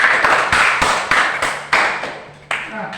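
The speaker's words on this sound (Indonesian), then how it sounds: "kita berikan aplaus untuk kelompok 1" A classroom group gives a round of applause for group 1, a burst of several sharp claps repeating irregularly over about three seconds, fairly close and lively.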